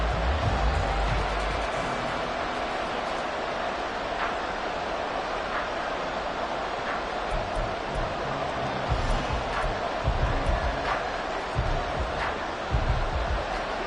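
Crowd noise in the Madden 24 football video game, a steady broad roar of stadium spectators that swells slightly toward the end, sustained throughout with no speech.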